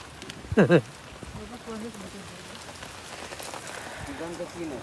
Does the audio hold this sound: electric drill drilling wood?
no